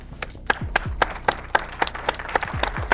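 A few people clapping together in a quick, fairly regular beat, sharp individual claps close by, with low voices murmuring between the hits.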